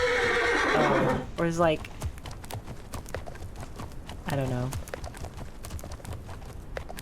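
A horse in the video game The Legend of Khiimori gives a loud whinny, then a second neigh follows, with hoof clip-clops and someone talking over parts of it.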